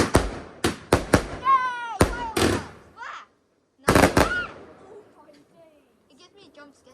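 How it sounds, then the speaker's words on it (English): Fireworks burst at a Bonfire Night display with a string of sharp, loud bangs and crackles in quick succession. Some whistling rises between the blasts, and people talk nearby. "We got the best fireworks in the neighborhood by far."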